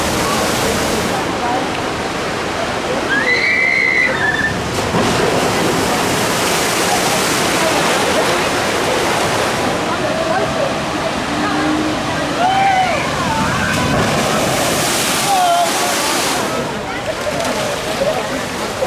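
Water rushes and splashes loudly and continuously around a bathtub flume ride at Tripsdrill theme park, with brief excited voices and shouts cutting in over the torrent.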